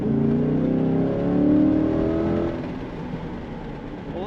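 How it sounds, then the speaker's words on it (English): A 2024 Chevrolet Corvette Stingray with the window down revs its engine in light traffic, a rising then falling mid-range growl that holds steady for about two and a half seconds before easing to a lower idle-like drone. "Lovely sound from this Chevrolet Corvette."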